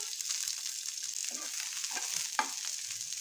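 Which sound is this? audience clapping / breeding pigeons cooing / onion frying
onion frying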